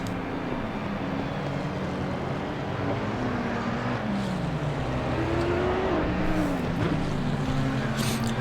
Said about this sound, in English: It's always fun to hear the roar of the Jag too